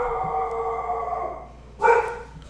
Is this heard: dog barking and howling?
yes